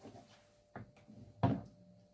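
A Marshall JCM800 2210 amplifier head is set down and turned around, giving two dull wooden thumps, a lighter knock then a heavier one, with faint handling rustle in a quiet room.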